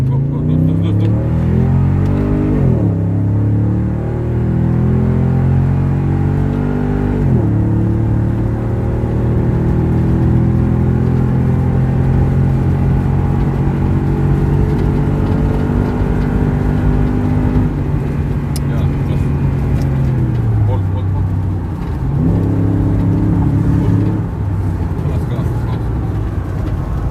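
A tuned 2017 car's engine revs hard and long after ECU reprogramming, rising and falling in loud sustained sweeps with brief dips between pulls, voices shouting encouragement over it.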